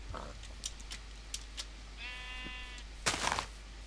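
A single sheep bleats once in the Direwolf20 modpack game, a short wavering cry over faint background clicks and footsteps.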